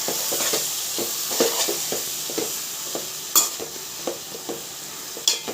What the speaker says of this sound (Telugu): ఇప్పుడు మెంతాకు వేయాలి. మెంతాకు కూడా నూనెలోనే గోలాలి.